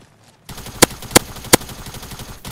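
Tactical submachine gun fire in the Fortnite video game: three sharp, loud, evenly spaced shots cut through a steady background of in-game sound.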